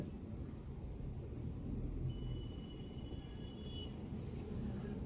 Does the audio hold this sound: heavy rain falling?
no